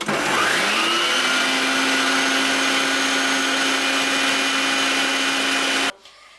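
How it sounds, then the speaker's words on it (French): An electric stand mixer beats Italian meringue for a chocolate buttercream while hot sugar syrup is poured in, a loud, steady, close motor whir that holds level without pause, then cuts off abruptly at the end. "je laisse tourner le batteur et je verse le sirop petit à petit pendant que ça tourne"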